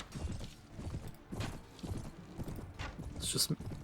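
A horse's hooves pound in an irregular clip-clop as a rider charges in a medieval battle in Mount and Blade: Warband, with a short neigh near the end; a voice talks over parts of it.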